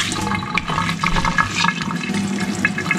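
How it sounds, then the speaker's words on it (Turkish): Water squeezed out by hand while wringing something outdoors in a village garden, a steady splashing, trickling gush close by and fairly loud, running continuously without speech. "bayağı bir su çıkıyor"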